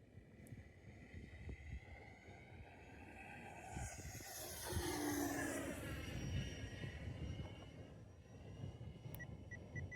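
A small RC warbird model airplane whines past, its high engine pitch rising and falling as it flies by, then fading to a distant hum over outdoor background noise.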